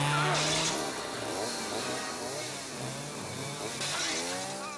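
A chainsaw battle scene from a Texas Chainsaw Massacre film, with chainsaw engines whining and revving in overlapping bursts beneath shouting voices and other film sound.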